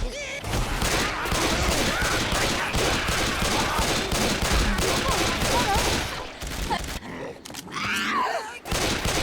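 Rapid video-game gunfire from a Left 4 Dead 2 session, loud sustained bursts that fill most of the stretch before thinning into sporadic shots near the end, with occasional groans and grunts mixed in.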